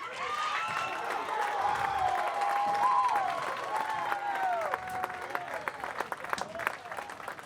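Crowd applauding and cheering at a state high school bowling arena finals, a broad wash of clapping in a large hall with voices and whistle-like calls rising over it, continuing throughout.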